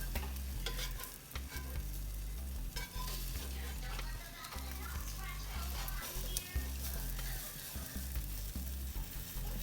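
An omelette cooks in a heavy, hot pan, giving a steady close sizzle with some stirring and scraping throughout and no talk.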